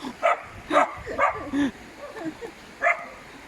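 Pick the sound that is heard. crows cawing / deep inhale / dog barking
dog barking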